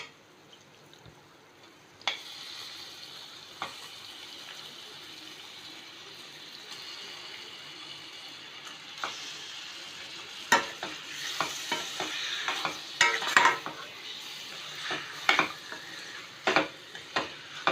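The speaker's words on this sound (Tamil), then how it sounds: "இது கொஞ்ச நேரம் அப்படியே வதங்கட்டும்," Chicken sautés in a pan with mint paste for a Tamil-style mint chicken. A steady, quiet sizzle and frying hiss runs throughout. Sharp scrapes and clinks of stirring grow busier toward the end, and no one speaks.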